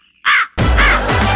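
A crow caws twice, loud and close; the first call stands alone against near silence, the second rings over a dense, noisy background.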